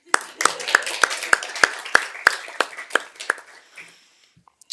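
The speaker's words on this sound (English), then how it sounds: "And we can applaud for Mario too." A handful of attendees at a city council meeting clap, their sharp, distinct claps spaced unevenly and sounding sparse rather than a full ovation, fading out after about four seconds.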